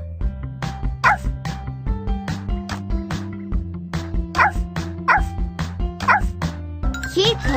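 Puppies in a Dora the Explorer video game yapping in quick repeated bursts over cheerful background music, loud and close.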